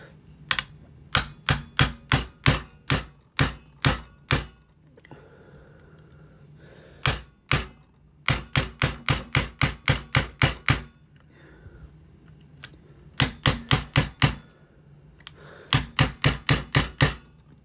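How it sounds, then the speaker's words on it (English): Sharp metallic taps of a punch driving a pin out of a CZ P10c pistol frame on a bench block, struck in quick bursts of several blows separated by short pauses, close and loud. "grab my punch, get it on a block."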